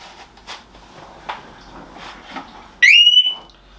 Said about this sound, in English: Quick demo of how the alarm works.